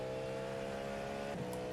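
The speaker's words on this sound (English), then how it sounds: "It's a scary sound when somebody goes into the pits on this track." Race car engine in iRacing's Le Mans 24-hour event, a steady droning whine with harmonic tones held throughout, a brief shift near the end as a car heads into the pits, no voices.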